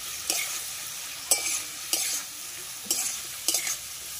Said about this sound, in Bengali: এবার আমি মশলাটা ভালোভাবে কষিয়ে নেব সবজির সাথে